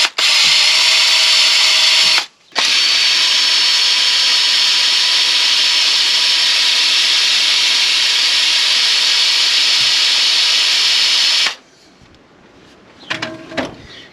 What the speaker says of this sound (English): I'm going to try clean the front of this up with a little wire wheel here on my drill